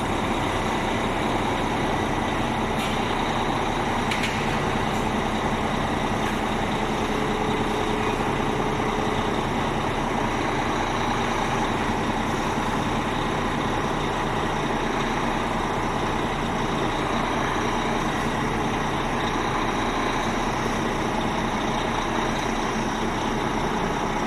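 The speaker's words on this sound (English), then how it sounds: "the truck has been moved slightly forward" Truck engine idling steadily during a wheel alignment as the truck creeps slightly forward, a continuous low rumble with constant hum and a few faint clicks, no talk.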